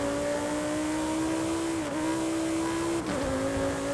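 A 2022 Lamborghini Huracan Tecnica engine revs steadily and loudly in a racing video game, holding a strong droning tone with two brief dips where it shifts gears before climbing again.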